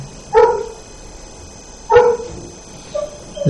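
A dog gives two loud, close barks about a second and a half apart, followed by a softer yelp near the end, with no talk over them.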